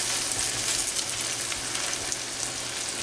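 Butter melts and sizzles with minced garlic in a pan, a dense, steady frying hiss with soft stirring and no talking.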